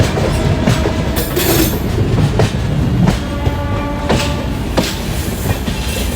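A Darshan Express train (12494, non-AC) rolls along the rails near Vasai Road with rhythmic clickety-clack of wheels over joints, a steady loud rumble and occasional faint metallic squeals.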